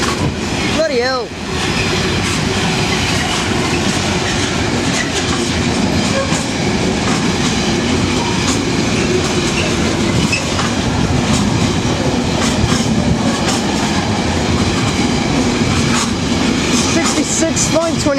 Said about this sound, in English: It's a very short coal train.